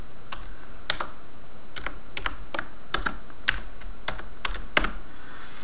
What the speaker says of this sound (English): so I'll just type my password in